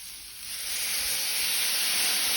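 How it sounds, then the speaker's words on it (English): Water splashed onto a hot beef, prawn and broccolini stir fry on a Weber barbecue sends up a loud, broad hiss of steam that swells and holds steady. "We're going to introduce a little bit of water."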